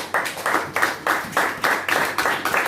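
A church congregation claps in a steady, rhythmic beat, roughly eight or nine even claps across a few seconds, fairly close and loud, with no voices over it.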